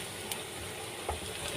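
Onions frying in ghee give a steady, close sizzle with a few faint pops over its short span, with no voices.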